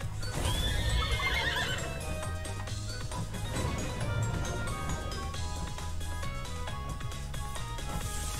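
Horse neighs and clattering hooves from a horse-play attack in the Nintendo Switch game Miitopia, a whinny at the start then steady galloping clip-clop amid game music and battle effects.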